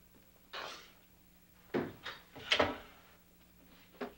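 An indoor door swings and shuts in a newspaper office: a soft swish, then a few wooden knocks and thuds in a quick cluster, then a final light tap, with no talking.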